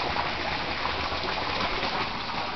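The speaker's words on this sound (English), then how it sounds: "These are waterfalls." Water splashing steadily down small waterfalls in an aquaponics system, a continuous close gushing trickle with no talk over it.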